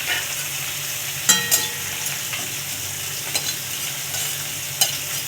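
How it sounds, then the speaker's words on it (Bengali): Dry cumin seeds and cardamom pieces rattle and scrape in a hot dry pan, with a few sharp clinks of a spoon against metal over a steady low hiss. "এটাকে আমি ভালো করে ভেজে নেব শুকনো খোলায়"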